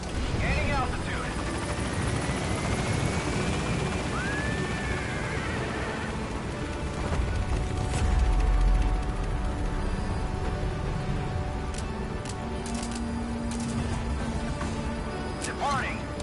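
The Pequod helicopter in Metal Gear Solid V gaining altitude, a sustained rotor and engine roar under game music and radio chatter, with a brief low rumbling swell midway.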